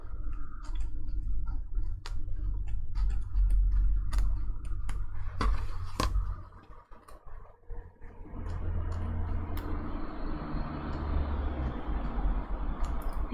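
Scissors snip through fur fabric close by in a series of irregular crisp clicks and cuts over a constant low hum, with a brief lull partway through and no talk.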